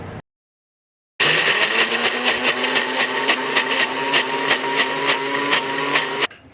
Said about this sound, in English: This blender is amazing, so I'm not really worried about not having a food processor.